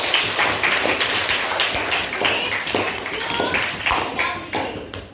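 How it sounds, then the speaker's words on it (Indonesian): Classroom audience clapping for a student at a junior high school, steady dense hand claps lasting the whole stretch with faint voices mixed in. "Give applause to Queen."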